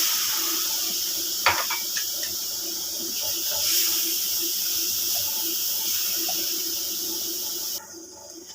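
Fresh milk pours into a coconut laddu mixture in a steady, continuous hissing stream lasting several seconds, then cuts off near the end.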